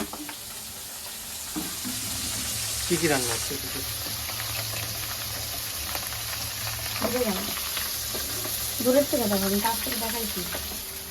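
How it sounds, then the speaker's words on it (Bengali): A soybean and potato curry cooks in a pan on a stove, with a continuous sizzle and hiss and occasional stirring scrapes, while someone talks over it. "সয়াবিন তরকারিটা এটাও রান্না করছি তবে আলু আর সয়াবিন একসঙ্গেই কিন্তু দিয়ে দিয়েছি"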